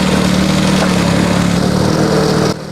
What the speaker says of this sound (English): The longer I spent driving the digger, I did get a bit better at it